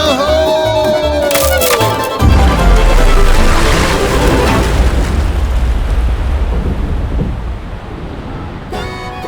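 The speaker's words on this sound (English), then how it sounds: "Tower's gonna blow! Fire in the hole!" A staged explosion effect on the Fire in the Hole indoor coaster at Silver Dollar City in Branson, Missouri: a horn-like toot, then a loud deep boom with rumbling that slowly fades as the ride car moves on.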